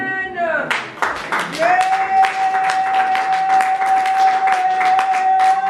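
Congregation at a prophetic ministry church service bursts into applause, dense clapping swelling from about one second and holding steady, with a sustained sung or organ tone running underneath.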